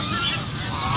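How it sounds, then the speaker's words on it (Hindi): Ducks at a family park call in a loud, close, continuous honking quack that fills the whole brief moment. "यहाँ पे बहुत सारी डक्स हैं।"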